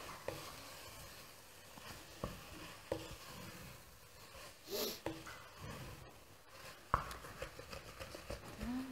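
Spices fry and are stirred in a pan, with soft sizzling, scraping and tapping scattered through a quiet stretch and a few sharper clatters near the end.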